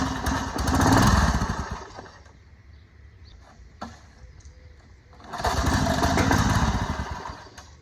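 A Tecumseh string trimmer engine that sat outside for years roars loudly at high speed, drops to a sputtering idle for a few seconds, then revs back up to a loud buzzing run.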